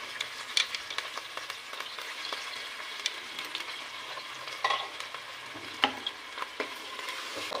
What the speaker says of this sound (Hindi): टू मिनट्स तक हम चिकन को फ्राई करेंगे।